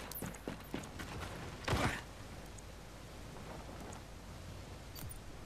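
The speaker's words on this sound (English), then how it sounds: "It's just raining this time." Rain in Gears Tactics falls as a steady, soft hiss throughout, with a few scattered clicks and a brief louder rushing burst near the start.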